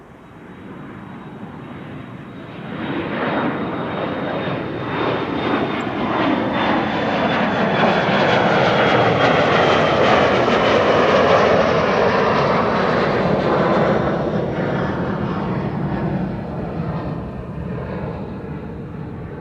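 Jet airliner from Boston operated by JetBlue at Amsterdam Schiphol airport, a loud sustained roar that swells and holds steady for most of the clip before easing slightly, heard alone without talk.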